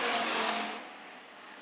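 Hobby stock race cars roar past on a dirt oval track, a loud, close engine rush that peaks and then fades as the cars move away, with no voices heard.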